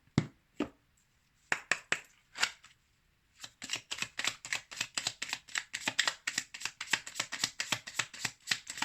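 A deck of oracle cards is shuffled before a draw: a few separate riffles first, then a fast run of crisp, close slaps and flutters with short pauses between.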